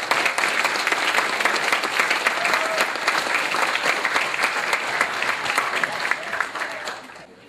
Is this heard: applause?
yes